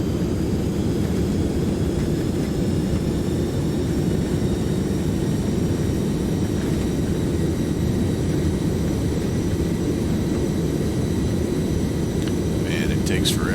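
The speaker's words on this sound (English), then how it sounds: "Reversers are engaged." Jet roar and rumble of a DC-8's thrust reversers deploying on landing rollout in a Prepar3D flight simulator arrival at Chicago O'Hare, a steady, loud, broadband engine wash that holds unbroken throughout.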